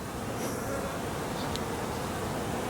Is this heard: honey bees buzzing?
yes